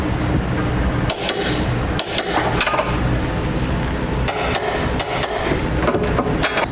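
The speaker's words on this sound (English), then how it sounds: "we'll tighten down the rear bolts" Wrench fitted with a swivel adapter and 11/16 socket tightening the rear bolts of a Curt class 1 1/4 trailer hitch receiver on a 2015 Subaru Impreza, giving sharp metallic clicks and clanks in irregular bursts over a steady background hum.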